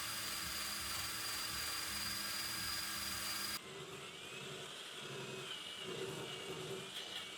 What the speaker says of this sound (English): I'm going to go over the whole van with this wire wheel, take off the surface mounted rust